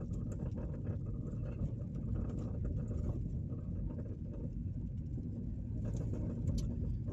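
A car drives through a residential neighborhood in Camby, Indiana, giving a steady, low engine and road rumble heard from inside the vehicle, with no talking.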